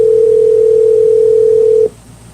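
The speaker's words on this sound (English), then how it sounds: "So we're trying Maurice again" Telephone ringback tone on an outgoing prank call, one steady unbroken tone held for about two seconds before cutting off, leaving quiet line hiss.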